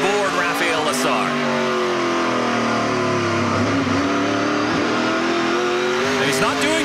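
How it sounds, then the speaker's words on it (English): Onboard a NASCAR Pinty's Series race car on a road course, the engine roars loud and steady with sweeping pitch changes through shifts and corners, while commentators talk over it. "Let's ride on board Raphael Lessard"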